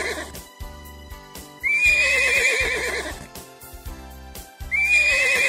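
A horse gives two loud, shrill whinnies, the second following a few seconds after the first, over a rhythmic background pulse.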